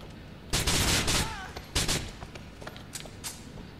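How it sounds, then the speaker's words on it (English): Gunfire in the video game Grand Theft Auto IV, loud bursts of rapid shots in several clusters with a few single cracks in between, close and dominant, no talk. "there's another geezer trying to shoot at me"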